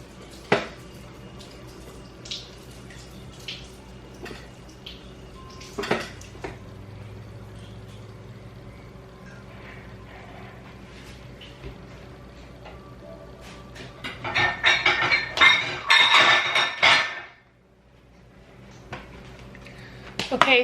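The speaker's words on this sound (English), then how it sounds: "I just rinsed them off" Kitchen items rinsed under running water at a sink, a burst of gushing water lasting a few seconds amid quieter clatter and a voice nearby.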